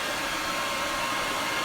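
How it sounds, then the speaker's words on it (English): A hair dryer blows with a steady, even hiss, constant and close with no other sounds. "using the hair dryer"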